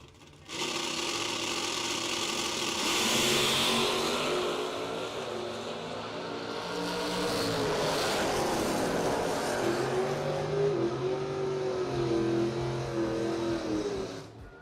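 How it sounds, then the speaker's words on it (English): A drag race car at a doorslammer nationals event accelerates hard down the racetrack, its engine roaring loud and sustained for over ten seconds with a shifting pitch, then dropping away at the end. "I believe that was Kevin Pollard flying down the racetrack there"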